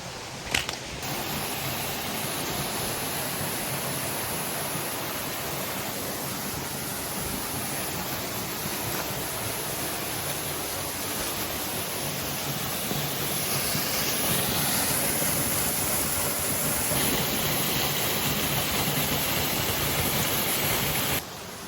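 Creek water in Bindarri National Park rushes steadily in a broad, unbroken hiss of flowing water, close and constant throughout with no talk.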